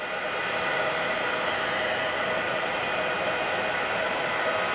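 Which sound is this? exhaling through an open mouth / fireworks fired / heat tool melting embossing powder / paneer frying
heat tool melting embossing powder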